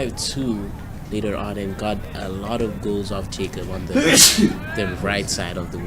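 A sharp sneeze bursts out nearby during a boys' high school soccer match, a single loud explosive burst cutting across steady commentary from someone talking throughout.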